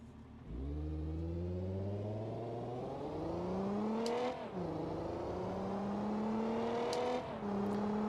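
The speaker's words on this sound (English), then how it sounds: "Engine sounds well good." A car engine in the BeamNG.drive game revs up through several gears during a banger race, rising steadily in pitch, dipping at each shift, then climbing again, loud and continuous, with no talk.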